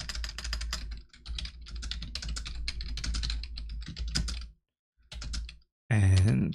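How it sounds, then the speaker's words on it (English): Quick, close keystrokes clatter on a computer keyboard while typing in the Vim editor, breaking off in short pauses, and a louder tonal sound arrives at the very end. "So we can just type in something like greeting."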